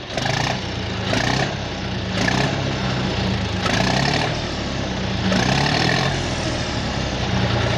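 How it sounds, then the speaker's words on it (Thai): A John Deere 5050D tractor engine with its stock exhaust pipe runs steadily at idle, its low rumble swelling in a few periodic surges, heard close with no voices. "อ่ะอันนี้คือเสียงท่อเดิม"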